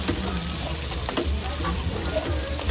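Ingredients for pancit, including kikiam, sautéing in a pan, a close steady sizzle and frying crackle with occasional stirring scrapes throughout.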